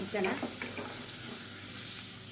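Chicken pieces sautéing in a pan, with a soft sizzle and brief stirring scrapes near the start, then a quieter steady frying hiss.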